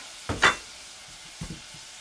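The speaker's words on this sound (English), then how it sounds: "giving the onions a little bit of frying first gives you such a beautiful taste" Onions in a pan give short sizzling bursts as they are stirred, two brief clusters of scraping and spitting, close and moderately loud, with quiet gaps between.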